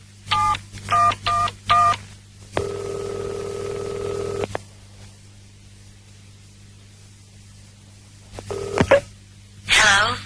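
A telephone number is dialed on a touch-tone phone: a quick run of short keypad beeps, then a longer steady tone, then a few more tones near the end, all clear against a quiet line hiss.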